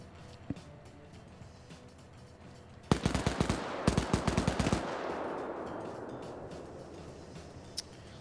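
Machine-gun fire rattles out in a video game battle: two rapid bursts of loud, close shots a few seconds long, followed by a fading rumble and sparse distant pops.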